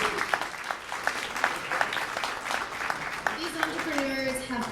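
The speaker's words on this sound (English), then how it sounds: "Let's give them a round of applause." An audience at a business awards ceremony in Port Coquitlam gives a steady round of clapping, with a voice beginning to speak over it toward the end.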